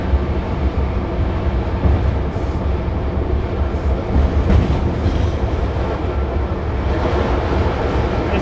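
Inside a Polish locomotive cab between Bydgoszcz Emilianowo and Inowrocław Rąbinek, the window is open because the air conditioning is broken. Wheels on rails and wind through the window make a continuous loud rumble with a faint rhythmic clatter.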